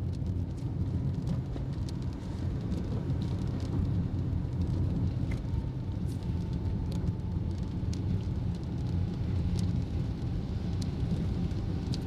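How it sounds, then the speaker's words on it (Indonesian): Steady rain patters against the windows of a Toyota Agya from inside, a constant muffled wash with a low rumble and occasional sharper drops. "Suara hujan di atap bener-bener gak kedengeran, cuman kedengeran dari kaca."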